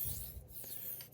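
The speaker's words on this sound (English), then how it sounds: "So I'm just refining a bit more on the fine ceramic to try and remove some of those chunks of burr." A knife blade rubs across a fine ceramic Spyderco pocket stone, giving a faint, close scraping rasp in short strokes with a brief pause midway, no voices.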